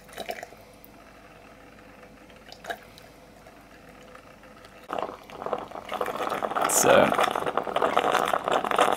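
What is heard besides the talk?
automatic tea making machine pumping hot water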